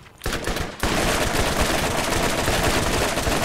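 Sustained automatic gunfire in Borderlands, a dense rapid stream of loud shots that starts briefly, pauses for an instant, then runs without a break.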